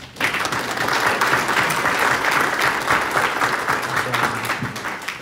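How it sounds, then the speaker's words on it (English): An audience at a community meeting between police and clergy in Astoria, Queens, breaks into loud, sustained applause that holds steady for several seconds, with a faint voice underneath. "give a clap"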